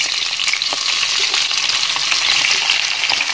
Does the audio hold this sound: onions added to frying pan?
yes